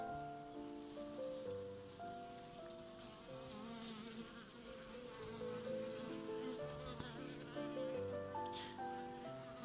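Dense, steady buzzing of many honeybees close up at a hive, a continuous droning hum with no voices.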